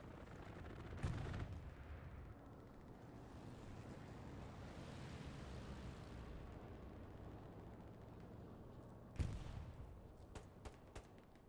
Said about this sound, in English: Someone had a machine gun over us.